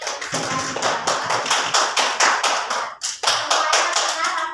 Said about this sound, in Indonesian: Ya, tepuk tangan untuk temannya yang sedang menjawab.